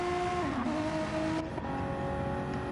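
A Renault race car engine drones with shifting pitch at Road Atlanta, revving down and back up as it runs, fairly distant with steady background noise.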